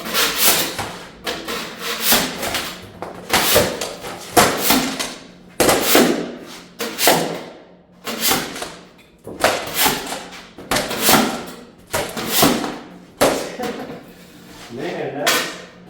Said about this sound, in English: I invested 40 bucks into this scraper today.